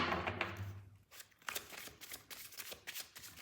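Tarot cards being shuffled by hand at close range, a soft riffling rush followed by a run of crisp, uneven card slaps and flicks with no talking.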